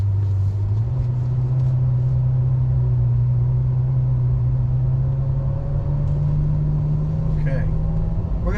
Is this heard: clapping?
no